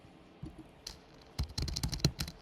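Typing on a computer keyboard, starting with a few scattered key clicks and then a quicker run of close, crisp keystrokes in a quiet room.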